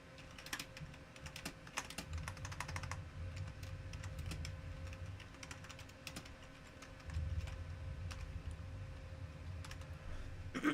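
Rapid, uneven clatter of keys on a computer keyboard, steady and close throughout, with a low room rumble underneath.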